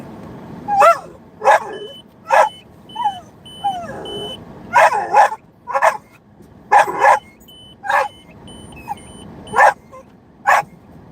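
A pet dog named Dizzy Dog barking and yipping indoors, a dozen sharp close barks in irregular succession with some whimpering between them.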